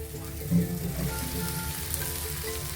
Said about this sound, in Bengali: মশলাটা নাড়াচাড়া করে ভালো করে ভেজে নিয়েছি